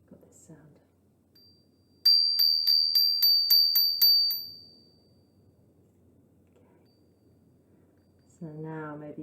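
A small high-pitched bell rings rapidly about eight times in a quick even series, then fades out, with quiet background murmur around it and a voice beginning at the end.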